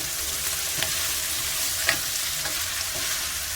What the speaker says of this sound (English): this is about 3 cloves of garlic that I'm adding. And I'm sauteing this in the oil.